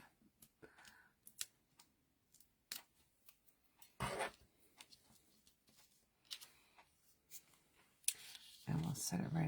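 Paper backing peeled off cardstock craft pieces: quiet, close, crisp ripping bursts among soft handling taps and clicks, with low talk in places.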